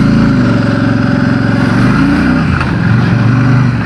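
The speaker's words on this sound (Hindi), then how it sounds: "एग्जॉस्ट नोट बहुत ही गजब है।" A 2026 Royal Enfield Bullet 650 parallel-twin motorcycle running on the road, its exhaust note a loud, steady, throbbing drone that dips slightly in pitch near the end, with no talking.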